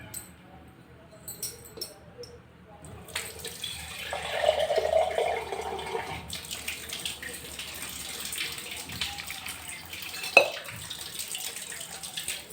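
Water poured over soaking field beans in a vessel, a soft rushing splash that swells for a few seconds and then tapers into quieter trickling and dripping, with a single brief clink.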